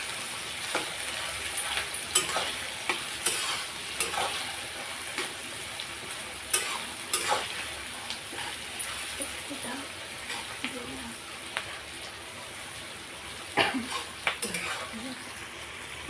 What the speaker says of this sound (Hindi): प्याज जब तक लाल नहीं होता है तब तक हम इसे चलाते रहेंगे।